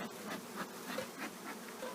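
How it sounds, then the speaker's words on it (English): Honey bees buzz faintly around an open hive, a soft wavering hum with a few individual insects swelling closer and fading, alone and quiet. "you want to just kind of easily push these bees back inside"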